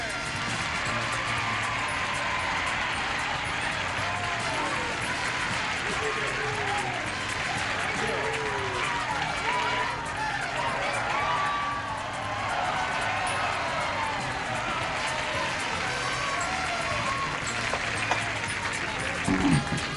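A studio audience on The Price Is Right game show breaks into sustained, loud applause and cheering, a dense wash of clapping filling the whole stretch with crowd voices mixed in.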